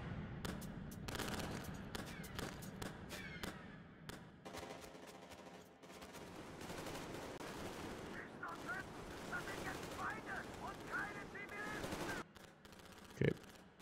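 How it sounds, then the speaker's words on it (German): Video game main menu with rapid gunfire in the background, dense bursts of automatic shots and scattered single cracks, fairly faint, with a person talking over it. "Gut, dass im Hauptmenü noch immer noch die Schüsse zu hören."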